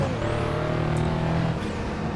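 RUF CTR Yellowbird engine in the Assetto Corsa racing game, a steady loud engine note holding high revs then shifting, heard alone without talk.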